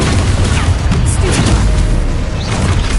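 An Expulso spell blast in Hogwarts Legacy, a dense low rumbling boom that stays loud and steady for a few seconds without any talk.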